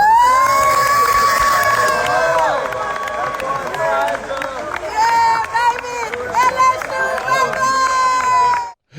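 A crowd goes wild as a football recruit pulls a hat to commit to LSU, with loud cheering, screaming and shouting from a packed room that holds strong throughout before cutting off abruptly.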